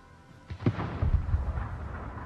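Naval gunfire thunders against the Stalingrad in a warship battle game, a few deep booming blasts rolling out at moderate distance with a long rumbling tail, no speech over them.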